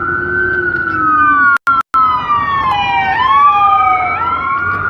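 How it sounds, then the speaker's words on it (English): An ambulance siren passing by on a street near a courthouse, loud and close, its wailing tone sliding in pitch as it goes past, with two brief dropouts and traffic noise underneath. "We're gonna let this ambulance pass by."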